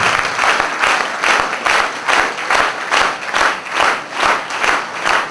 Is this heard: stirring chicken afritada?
no